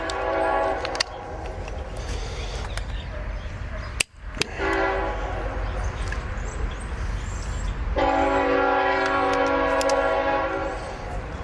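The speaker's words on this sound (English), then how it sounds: "There's a train." A train passes nearby with a steady heavy rumble, sounding loud sustained horn blasts at the start and again for a couple of seconds later on, with no talk over it.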